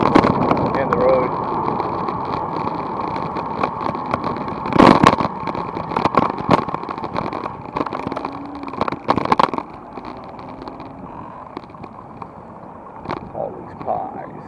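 Cars rush past close by on a road in Orange County, California, heard from an e-bike ride, with a few louder swooshes standing out over steady wind noise and someone talking throughout.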